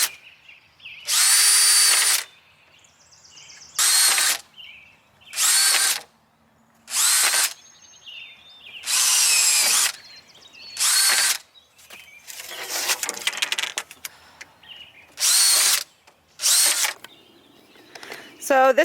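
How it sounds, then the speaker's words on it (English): Power drill boring holes for a DIY bog garden, a series of loud whirring bursts of one to two seconds each with short pauses between, close by, with some handling clatter in the gaps. "I'm just drilling holes every couple of inches."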